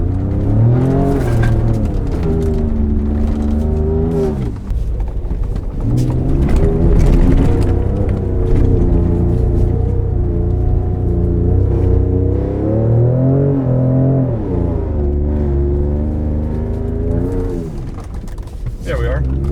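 A 2019 Ford Raptor pickup truck downshifting and revving off-road, its engine note rising and falling loudly and continuously throughout, with people talking over the engine.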